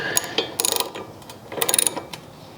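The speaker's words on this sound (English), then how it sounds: "I'm going to tighten it down right like that." A part on a Harbor Freight Central Machinery drill press being tightened down, giving a few close, sharp ratcheting clicks and metallic turns in short bursts with brief pauses between.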